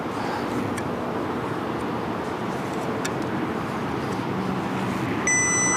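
Faint clicks and a brief electronic beep at the very end from a Potensic D60 drone transmitter during compass calibration, over a steady hum of outdoor ambience.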